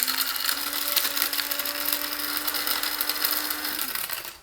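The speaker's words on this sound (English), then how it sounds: "Make sure at home you have a coffee grinder that is dedicated just to having spices in it." A small electric coffee grinder kept only for spices whirs at a steady high-pitched buzz for about four seconds, close and loud, then spins down and stops.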